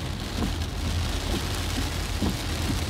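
Steady heavy rain falling throughout during typhoon No. 5 on Phu Quoc island, a dense continuous wash of drops with scattered louder patters on surfaces nearby.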